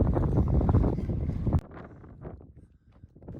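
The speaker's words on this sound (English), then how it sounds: "It's very windy." Strong wind buffets across an exposed badlands mesa in Petrified Forest National Park, a loud low rumble that drops abruptly midway into softer, gusty rustling.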